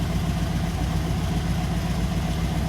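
A 1961 Sunbeam Alpine II engine idling at around 850 to 900 RPM, a close, steady, rhythmic low rumble with an even pulsing beat and no voices.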